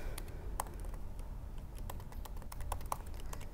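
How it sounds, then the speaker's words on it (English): Computer keyboard typing during a live coding session at a programming talk, quiet irregular clicks and taps picked up by a distant microphone over a low room hum. "I forget how to type when I'm doing live coding"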